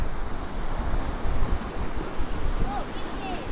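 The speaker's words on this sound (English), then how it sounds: "Really windy right now. Check out some of these massive waves." Strong wind buffets the microphone while large ocean waves crash and surge steadily nearby, with a faint voice in the background, recorded on an Insta360 X3 camera.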